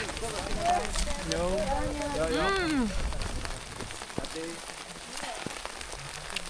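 Rain falling along a trail on Mount Argopuro, a steady patter on surfaces running throughout, with voices talking over it near the start.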